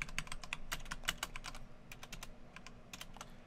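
Steady rapid typing on a computer keyboard, a run of crisp close keystrokes with a faint low hum underneath and no talking.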